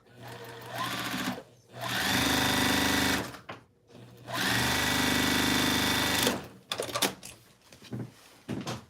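A sewing machine stitches a seam on a carnival costume, running in two long, loud, steady whirring stretches, then a few short stop-start bursts near the end.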